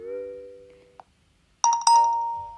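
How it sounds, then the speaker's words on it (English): A Nokia 2.4 phone plays its default notification tone, Nokia message 01: a short electronic chime with bright bell-like notes, preceded by a soft tone and a brief click, clear and alone. "is my default notification tone"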